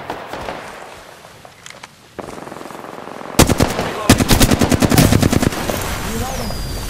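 Rapid automatic gunfire erupts in Apex Legends during a squad ambush: quieter distant shots first, then loud close bursts of rattling fire with short gaps, ending in a lingering tail.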